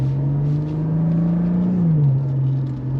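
A Cadillac CT4-V Blackwing sedan pulls hard in second gear on a road between North Carolina and Tennessee. Its loud, steady engine drone climbs slightly in pitch, then dips near the end, with no talking.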